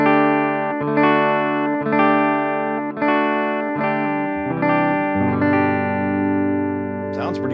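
A tiny electric guitar plugged into an amp gives repeated distorted, effects-laden chords with a steady rhythm, then a longer sustained chord, close and loud with no talking.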